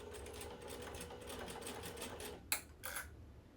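A sewing machine stitching waxed canvas hums with rapid, even stitching, close and steady, then stops, followed by two brief rustling clicks.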